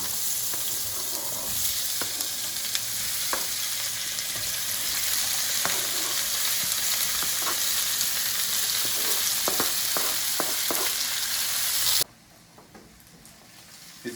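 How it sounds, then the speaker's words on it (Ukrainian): Chopped onion fries in rendered pork lard with a dense, continuous crackling sizzle and occasional stirring clicks, loud and close, until it cuts off abruptly near the end and leaves a quiet room. "І будемо піджарочку зараз готувати."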